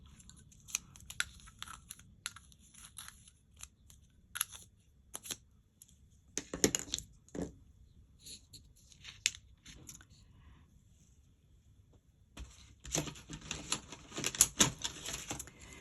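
Polychromos coloured pencils scratch softly on paper up close, in short bursts of strokes separated by quiet pauses.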